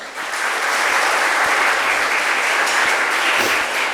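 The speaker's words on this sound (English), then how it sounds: "So let's hear a huge round of applause." Audience applause at a biotech skilling programme session, a steady loud burst of many hands clapping for about four seconds, dense and sustained without talk.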